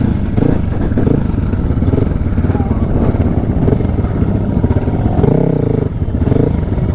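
Motorcycle engine labouring and revving on dry, loose sandy ground at Bromo, running loud and steady for several seconds before sputtering and dropping off as it stalls, with voices talking over it.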